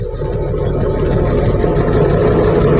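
A Komatsu D155-6 bulldozer's diesel engine runs with cylinder number one cut off, giving a loud, close, steady rumbling drone that holds evenly throughout with no talk.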